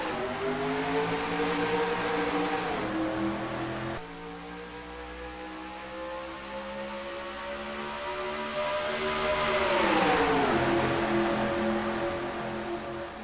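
Race car engines roar past on the 1.366-mile Darlington speedway in South Carolina, a steady loud drone of several cars that shifts pitch as they pass, swelling near the end, with no talk.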